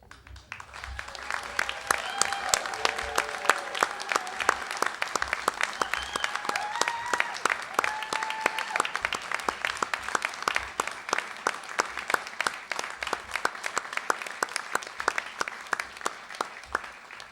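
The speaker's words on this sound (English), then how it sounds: "We would like to request that all graduates please stand for one last round of applause." A large audience at a university graduate studies commencement ceremony gives sustained applause, many crisp individual claps audible within the dense crowd, with faint voices and cheering tones woven through.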